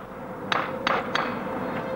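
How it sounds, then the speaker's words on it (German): Three sharp hammer blows flatten a plug in a documentary kidnapping scene, irregularly spaced metallic knocks over a steady noisy background. "Jetzt nimmt er den Hammer"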